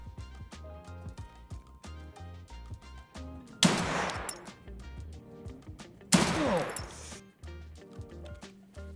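Gunfire in the Escape From Tarkov video game crackles in steady rapid bursts. Two louder, sharper blasts stand out against a running pattern of quick shots throughout.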